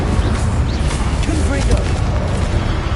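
Fire spell cast in the video game Hogwarts Legacy amid rapid spell combat, a continuous booming rumble with flickering crackles, loud and dense throughout, with a voice running through it.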